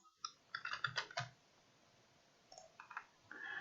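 Quiet keyboard typing produces a quick burst of clicks, then a pause, and then a few more keystrokes against a faint background hiss.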